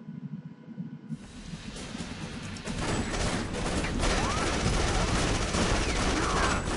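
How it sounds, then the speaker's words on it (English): Gunfire from the AfterFall Insanity survival horror video game: a loud, dense, hissing burst of shots that kicks in abruptly after a quieter opening and keeps roaring steadily. "You're actually controlling the shots here."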